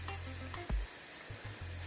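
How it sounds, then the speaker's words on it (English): Jackfruit pieces frying in a hot pan as the first of two batches, giving a soft steady sizzle with a few brief clatters from stirring; no one speaks. "We're frying two batches."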